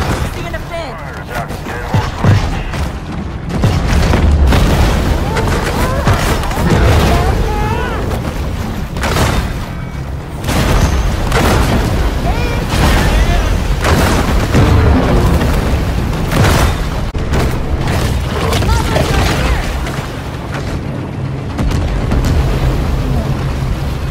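Heavy gunfire and booming blasts from armed hunters in the Maneater video game, a dense, loud, continuous barrage of shots and explosions with a voice speaking over it.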